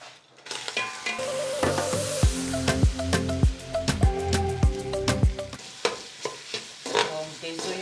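Onions fry in a little oil, giving a steady sizzle with repeated scraping and stirring strokes from a utensil in the pan, close and fairly loud with no talk.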